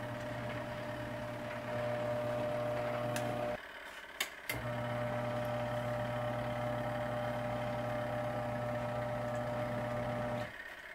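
Steady motor hum from a portable washing machine running a rinse cycle. It cuts out briefly near the middle with a couple of small clicks, then resumes at the same even level.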